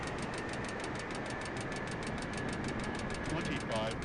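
Boeing 747-8 jet engines in Microsoft Flight Simulator 2020 give a steady broadband roar with a faint whine, holding fairly even as thrust is pulled back on approach, with a brief voice near the end.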